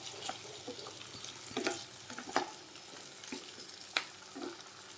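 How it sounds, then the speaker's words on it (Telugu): Potato pieces and soya chunks frying in a pan for soya chunk potato biryani, a steady soft sizzle with scattered clinks and stirring scrapes, fairly quiet and close, with no talk. "ఇవన్నీ యాడ్ చేసి ఒక 5 మినిట్స్ ఫ్రై చేసుకోవాలండి"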